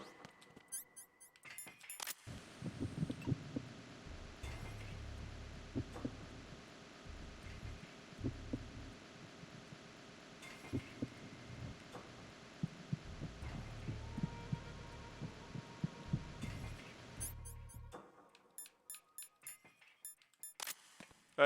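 Heartbeats thump in Metal Gear Solid 2, a string of soft, low muffled beats with uneven spacing over a steady hum, running for most of the stretch before dropping away near the end.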